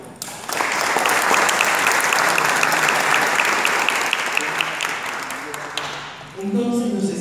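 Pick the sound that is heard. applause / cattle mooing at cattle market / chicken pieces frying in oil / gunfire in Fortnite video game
applause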